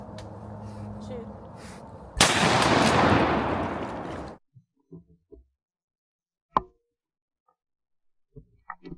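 Shotgun blast on an Arkansas public-land duck hunt, one loud roaring report that rings out for about two seconds, followed by quiet with scattered faint knocks.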